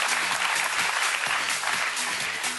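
A crowd at a live comedy show for Love Day gives sustained, loud applause as a performer is welcomed onstage, a dense wash of clapping with no talk over it.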